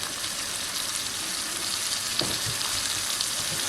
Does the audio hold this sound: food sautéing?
yes